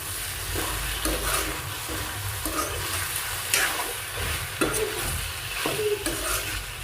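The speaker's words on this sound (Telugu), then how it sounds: "దొండకాయ అయితే వేగిపోయిందండి" Ivy gourd (dondakaya) fries in a pan for a curry, a loud, continuous sizzle broken by repeated scraping stirs at a regular pace, close up with no talking.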